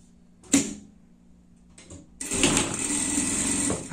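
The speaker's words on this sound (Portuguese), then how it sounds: "dei uma limpeza na overlock aqui" An overlock sewing machine stitching fabric, starting with short bursts and then running steadily in a quiet room.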